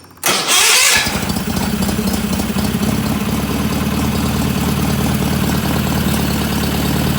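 A tractor engine cranks and fires up loudly, then settles into a steady, close, rumbling idle with no talk over it.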